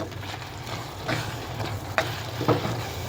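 Chili powder is stirred into frying oil for prawn thokku, giving a soft continuous sizzle broken by a few scraping spoon strokes against the pan.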